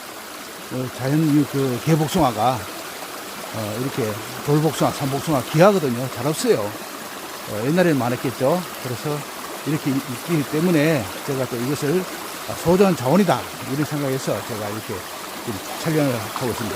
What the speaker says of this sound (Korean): 물소리가 아주 절절절 내려오는 소리가 아주 그 정겹고 그러네요